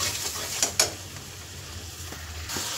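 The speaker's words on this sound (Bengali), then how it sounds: "এই মশলাটাকে ভালো করে কষাবো আমি।" Spice masala frying in a pan for egg tadka, a low steady sizzle with a few sharp scrapes of a spoon against the pan.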